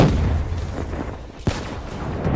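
A frag grenade explosion in Call of Duty Black Ops 3, a sharp blast cutting through dense game noise midway, with booming gunfire-like rumble around it.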